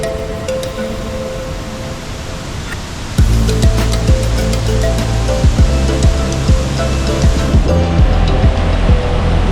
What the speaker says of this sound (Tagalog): tawag nila dito is Silver Waterfall